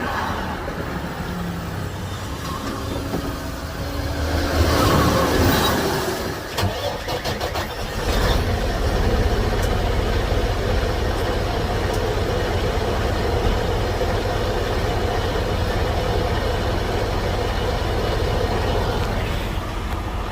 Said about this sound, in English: And we'll fire the truck back up.